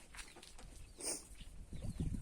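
Chickens and young roosters on a small farm giving faint, scattered clucks and short calls at a distance, with no voices.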